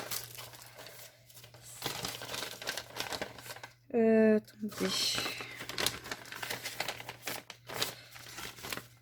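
Paper packaging from a cross-stitch shop order crinkles and crackles close by through most of the clip, with one sharper, louder burst in the middle, while someone talks in French.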